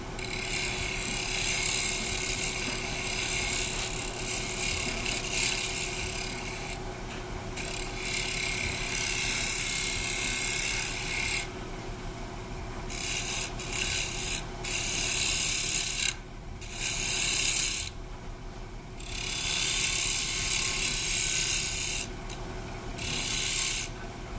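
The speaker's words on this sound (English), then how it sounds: "Do your shear scraping." Carbide woodturning tool shear scraping a spinning wooden workpiece on a lathe, heard as a loud, hissing rasp that runs in long stretches and breaks off in short gaps, over a steady motor hum.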